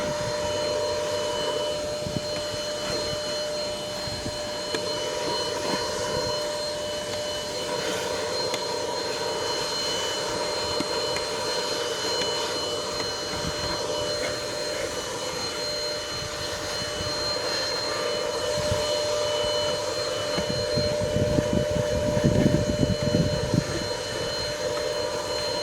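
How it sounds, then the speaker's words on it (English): An APOSEN H20-4 handheld car vacuum cleaner runs on its high setting while cleaning a car interior. It gives a steady, even whine throughout, with faint scraping and rustling near the end. "It's like you spend half the time dislodging the dirt so the vacuum cleaner can pick it up."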